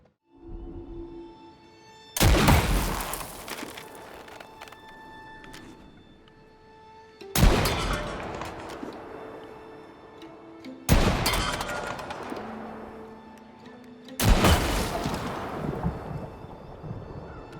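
Four loud, booming gunshots ring out in the video game Until Dawn, spaced a few seconds apart, each with a long decaying echo over a quiet game soundtrack.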